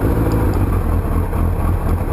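A 2003 Suzuki Hayabusa motorcycle fitted with an Akrapovic exhaust idles and revs, a steady, loud, close engine drone with a deep, even exhaust note and no voices.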